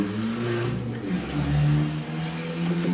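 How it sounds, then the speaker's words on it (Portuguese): A noisy truck with a loud exhaust roars past close by, its engine rumble swelling to a peak mid-pass and then easing off, with no voices over it. "caminhão barulhento"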